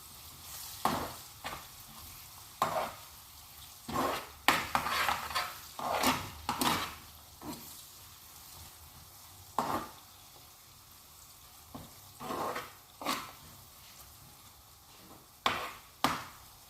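Egg frying with turmeric in a pan, stirred with a spatula: a string of scraping, clattering strokes at an uneven rhythm over a steady soft sizzle, close by with no voices.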